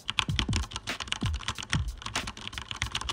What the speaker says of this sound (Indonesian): ini suara yang warna merah